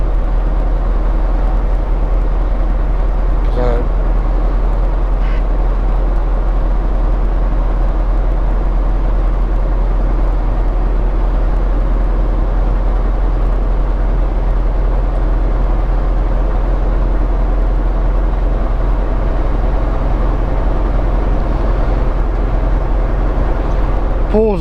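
Steady low engine drone of a 2018 Peterbilt 389 truck cruising on a highway in rural Montana, continuous and close, with someone talking over it.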